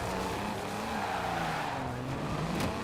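A Lotus in Forza Horizon 4's winter season whips through a J-turn. Its engine roars steadily while the tires screech and skid on the snowy surface, loud and close throughout.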